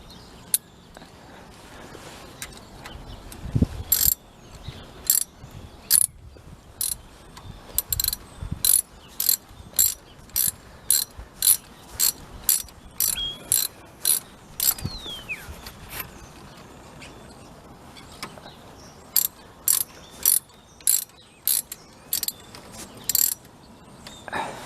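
A hand ratchet tightens brake caliper bolts on a Renault Megane during a front brake pad replacement, giving crisp clicking bursts in repeated rapid runs with short pauses between strokes, close and clear.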